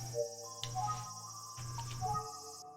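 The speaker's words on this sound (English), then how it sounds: "the cicada noise is good down there" Chirping cicadas in the Famicom Detective video game, rendered as a steady high-pitched synthesized drone with music playing underneath, continuous for the whole stretch.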